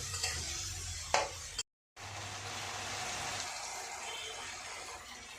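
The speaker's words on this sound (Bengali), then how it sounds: "টমেটো এবার ভালো করে কষে নেবো" Tomatoes sautéing in a pan for a fish-roe fritter curry, a steady close hiss of frying with a brief stir, a short gap of silence, then the sizzle resumes.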